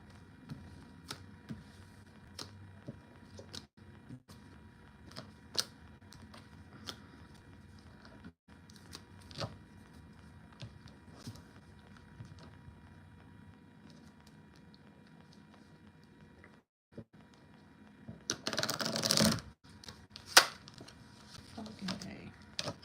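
Tarot cards are shuffled with soft, scattered ticks and taps throughout, then a brief, louder burst of riffling near the end, in a quiet room.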